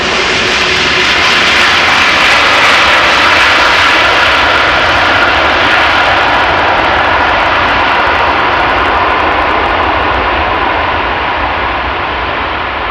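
A large airliner lands at Amsterdam Schiphol and applies reverse thrust, a loud, close, sustained jet roar that swells and holds steady for the whole stretch before easing slightly at the end, with no voices.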